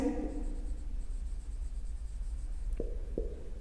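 Chalk or marker writing an answer on a classroom board makes faint, quiet scratching strokes, ending in a couple of sharper taps.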